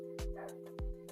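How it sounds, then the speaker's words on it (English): A dog gives two short, sharp barks about half a second apart, fairly close and set against a steady background hum. "dog is barking"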